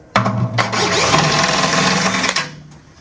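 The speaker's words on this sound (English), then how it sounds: "I'm using a power drill with a" A power drill with a quarter-inch drive socket on an extension whirs steadily for about two seconds while removing a timpani pedal part, starting abruptly and winding down, loud and close with no talking.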